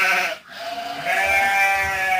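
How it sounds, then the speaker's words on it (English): Sheep bleat loudly and close by, one long wavering cry that breaks off briefly and then starts again, with no voices. "The sheep are out."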